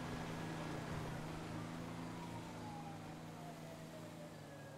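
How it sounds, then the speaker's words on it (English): A faint siren wails distantly with slow, gliding pitch, buried under a steady engine drone that continues throughout. "Gotta turn my siren off."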